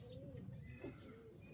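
Young pigeons coo softly in a short, low, murmuring call alongside faint bird chirps, quiet and close, with no talking.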